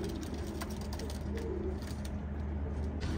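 Zubayri pigeons on a rooftop give soft, low coos that sit close but faint under a steady background rumble of wind or traffic. No one speaks.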